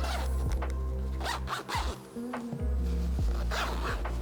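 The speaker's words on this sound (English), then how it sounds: "Then I'll zip it up." A zipper on a Smartsuit motion capture suit, the fabric garment fitted with sensors, is pulled closed in several quick close rasping strokes, with a brief pause midway and a low hum beneath.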